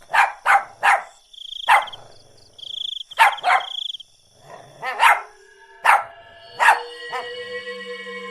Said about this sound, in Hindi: वो उसकी तरफ देखकर भौंकने लगता है